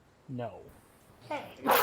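A short, forceful sneeze from a character in the video game Yakuza 5 comes as a bright burst at the end, after two brief vocal sounds.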